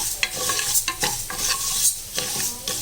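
Moong dal dry-roasts in a pan over low heat, close rhythmic scraping and rattling stirs of the dry lentils with a light sizzling hiss between strokes.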